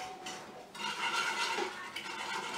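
Whisk scraping and clinking against a bowl while eggs and sugar are mixed together, a short burst of quick metallic stirring, close and fairly quiet.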